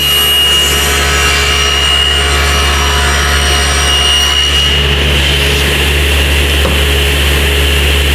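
A rabbet plane cuts the field of a wooden frame-and-panel piece, giving a loud, steady scraping hiss that stays continuous under a constant low hum and eases slightly toward the end.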